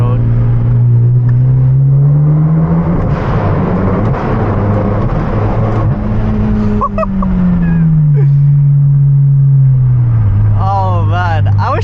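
A Hyundai Genesis Coupe with full bolt-on mods and over 300 hp, driven through a tunnel with the windows down: a loud, droning engine and exhaust note that climbs and falls as it revs, heard from inside the car.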